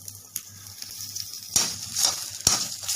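Sliced onions with salt roasting and sizzling in a pan for misal pav. A soft, steady sizzle runs throughout, broken by a few sharp clinks of a utensil against the pan.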